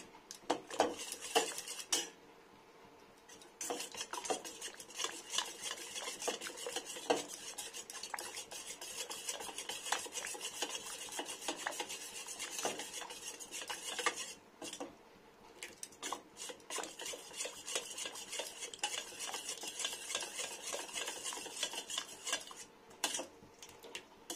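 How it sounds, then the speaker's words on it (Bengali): Soaked split black lentils (biulir dal) being mashed and stirred by hand in a bowl, a steady scraping, rubbing clatter against the vessel that carries on close and continuous with no talking. "ডালটা এটা একটু দলে দিতে হবে এমনি করে, পুরো ঘোলের মতো হয়ে যাবে।"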